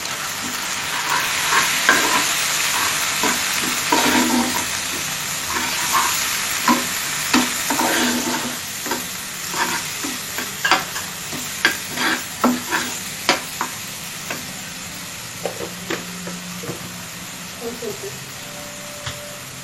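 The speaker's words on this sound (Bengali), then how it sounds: "মশলাটাকে ভালো করে ভেজে নেব" Spice paste with dried chili powder, cardamom and cinnamon frying in a pan for catfish curry, a steady sizzle broken by repeated spoon scrapes and stirring knocks, close by, with a person speaking over it.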